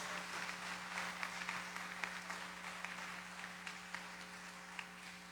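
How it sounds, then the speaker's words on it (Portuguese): A church congregation at Sunday Mass applauds with a dense spatter of clapping that holds steady for several seconds under a low electrical hum. "Uma salva de palmas para os nossos vovôs e vovós."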